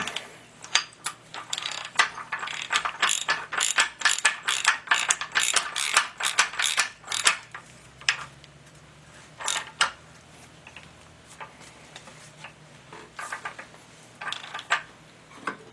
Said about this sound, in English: I'll put that nut on. And tighten that up.